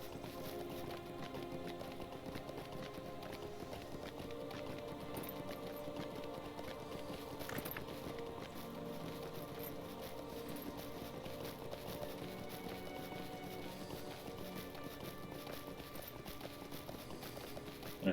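Steady clip-clop of a video game horse's galloping hooves runs throughout at an even pace, fairly quiet and uniform, with no talk over it.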